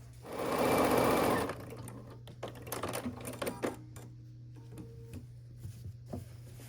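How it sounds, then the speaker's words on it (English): A sewing machine runs in a fast, close burst of stitching about a second long as it sews the last centre seam of a pinwheel quilt block, followed by light clicks and handling noises. "we have one final seam left to sew right down the middle here"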